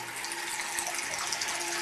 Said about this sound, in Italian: Mettiamo acqua fredda.